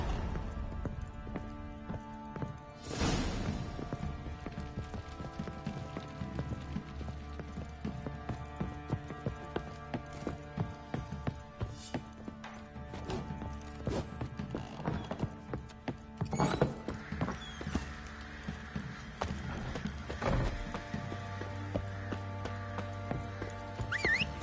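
Hooves of Geralt's horse Roach clip-clop in a steady rhythm over a long stretch of riding in The Witcher 3, with a brief neigh and background ambience.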